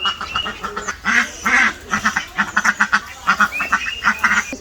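A red-dyed duck quacks repeatedly at close range in a rural Bangladeshi yard, with short, rhythmic nasal calls in quick bursts that continue steadily without any talking.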